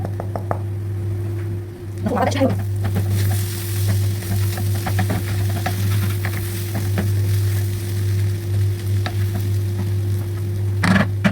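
Chicken stuffing of freekeh with salt, cinnamon, paprika, ginger, black pepper and seven spices frying in a pan, a steady sizzle over a constant low hum, with occasional stirring scrapes and knocks.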